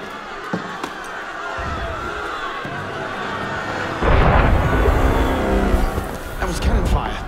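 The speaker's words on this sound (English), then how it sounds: "That was cannon fire." Heavy cannon fire in the video game Assassin's Creed Unity, a deep booming blast that swells loud midway and rumbles on under scattered noise and commotion.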